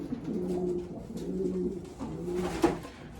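Breeding pigeons in a loft coo repeatedly in low, throaty, rolling phrases, a steady nearby murmur with a brief sharper note near the end and no voices.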